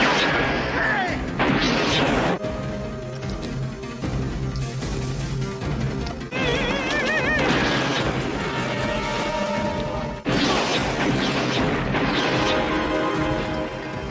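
Shotgun blasts wrecking a workshop in a film, loud booming shots and crashing debris over a dense dramatic soundtrack with music, several abrupt cuts between scenes.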